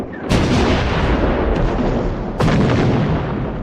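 Heavy artillery on the World War I Bulgarian front fires in two loud, booming blasts, the second about two seconds after the first, each trailing into a long rumbling decay.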